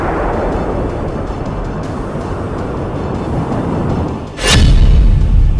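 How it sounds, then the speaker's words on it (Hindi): A missile strike in Iran lands with a sudden heavy boom that cuts through a dense, rumbling roar of background noise and lingers as a deep, loud rumble afterward. "धमाका नंबर 1,"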